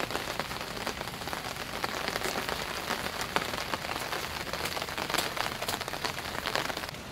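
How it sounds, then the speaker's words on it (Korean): Heavy rain falls steadily, heard from a veranda: a dense, even patter with scattered sharper drops and no voices. "빗소리가 더 거세어졌습니다"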